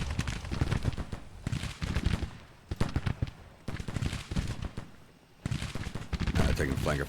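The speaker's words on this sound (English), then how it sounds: "Taking flanker fire from that battery." Scattered rifle and cannon fire in a Civil War video game, bursts of reports alternating with quieter gaps, with a player talking throughout.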